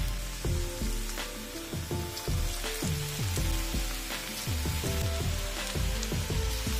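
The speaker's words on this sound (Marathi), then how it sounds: "आता हे मिक्स करून आपण भजे तळणार आहोत" Onion bhaji (kanda bhaji) batter fries in hot oil over a low flame, giving a continuous close sizzle with bubbling crackles and no talk.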